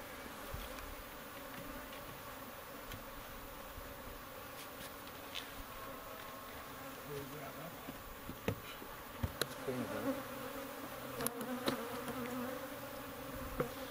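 Swarm of agitated honeybees around a hive, a steady faint droning buzz throughout, with individual bees passing close and a few soft knocks of hive work.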